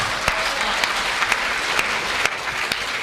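An audience claps steadily at a Hindi humorous poetry gathering, a continuous patter of applause with a few sharper individual claps standing out, moderately loud and without speech.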